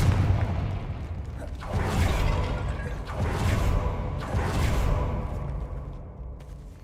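Confringo spell explosions in Hogwarts Legacy, a wizarding video game: a few heavy booming blasts with whooshing tails, each fading before the next, loud and close.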